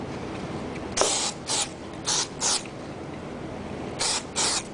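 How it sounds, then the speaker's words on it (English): Short hissing sprays of activator from a pump bottle, about six quick bursts in pairs, close by over a faint steady background hiss, no speech. "I'm going to spray the activator on it."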